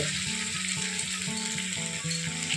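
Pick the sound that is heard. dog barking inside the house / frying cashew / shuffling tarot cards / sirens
frying cashew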